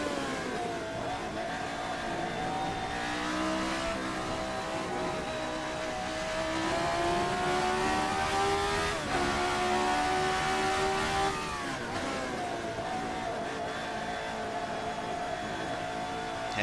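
Engine of an RSS Formula 79 open-wheel race car in a racing video game, revving and climbing through the gears with shifts and throttle lifts, loud and continuous throughout.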